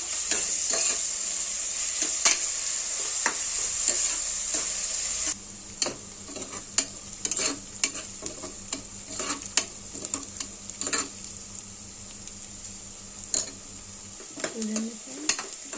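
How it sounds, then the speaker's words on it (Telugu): Chopped onions fry in a pressure cooker, a steady sizzle broken by repeated scraping and clinks of a spoon stirring against the metal, heard close with no voices. "తర్వాత కట్ చేసుకున్న ఉల్లిపాయలు కుక్కర్లో వేసుకోవాలండి. బాగా ఎర్రగా అయ్యేదాకా ఫ్రై చేసుకోవాలండి."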